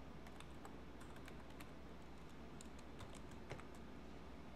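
Keys click in a quick, steady run on a computer keyboard as text is entered into a graphic design program, soft and close over a low constant hum, with no talking.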